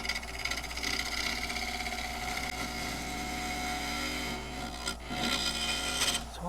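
A lathe tool cuts a hard pecan wood blank spinning at about 1000 RPM, producing a continuous scraping rasp over a steady motor hum, with brief pauses near the end.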